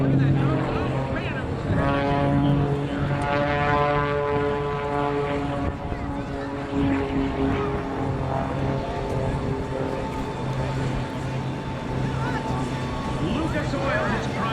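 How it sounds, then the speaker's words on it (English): A propeller airplane first designed in 1946 performs at an air show over Miami, its droning engine rising and falling as it passes, with an announcer talking throughout. "This airplane had its first design route way back in 1946"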